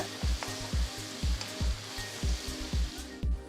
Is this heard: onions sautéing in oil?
yes